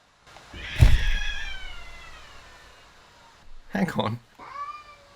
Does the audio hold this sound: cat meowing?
yes